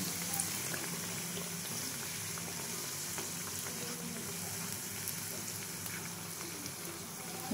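Filled kakra pithe frying in hot oil in a pan, giving a continuous, soft bubbling sizzle that stays steady and fairly faint throughout, heard close with no talking.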